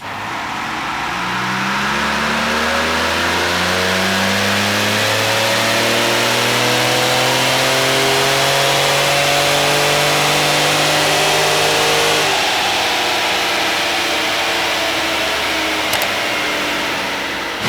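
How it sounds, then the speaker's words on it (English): A stock 2020 Ford Raptor truck with an ECU flash roars through a sustained wide-open dyno pull, its engine note climbing steadily in pitch for about twelve seconds before cutting off and winding down, loud and close with no talking. "We're gonna fire up the dyno."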